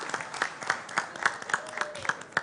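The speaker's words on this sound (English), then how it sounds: "Clap for each other." Students applaud the teams at a high-school quiz competition with a brief, modest patter of clapping. The claps are sharp and fairly close, with voices faintly mixed in.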